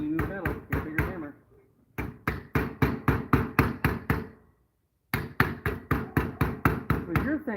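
Sheet metal is pounded with a hammer in three rapid runs of loud, close, evenly spaced blows, the strikes ringing briefly, with short pauses between the runs.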